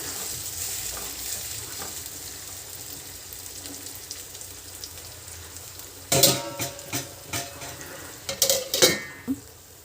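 Tomatoes frying in oil in a pan with a low, steady sizzle, then a string of loud metallic clinks and scrapes as a spoon stirs against the pan in the latter half.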